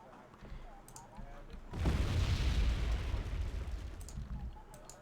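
Rocket strikes in the real-time strategy game Wargame: Red Dragon, a dense rumbling burst of explosions swelling loudly around the middle and slowly tapering into a lower roar.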